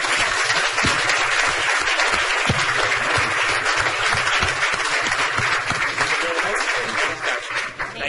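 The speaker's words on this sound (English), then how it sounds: "Give them a round of applause, please." A council meeting audience applauds a volunteer ambulance corps marking EMS Week and 40 years of service, sustained loud clapping from a full room with no pause for its whole length.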